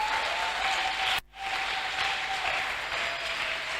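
Church congregation applauding at a planning seminar service, a steady dense wash of clapping that breaks off for an instant and resumes, loud and sustained without talk.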